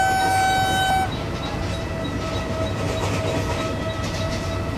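Vande Bharat Express train rumbling along the line in Train Simulator, with a steady broadband roar throughout and a sustained tonal horn-like hum in the opening second before it drops away.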